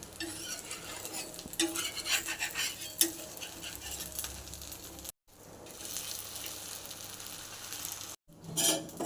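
Plain dosa cooking on a hot pan, with steady sizzling and scraping stir-like strokes as it is worked and lifted off, two brief silent gaps breaking the continuous frying noise.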